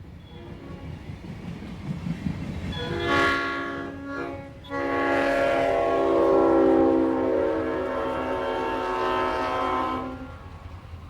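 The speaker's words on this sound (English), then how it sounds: "The work train we saw earlier now heads past our location at Randolph Tunnel." A CSX work train rolls past Randolph Tunnel in 1992, its horn sounding loud and sustained for several seconds over the rumble of the passing cars.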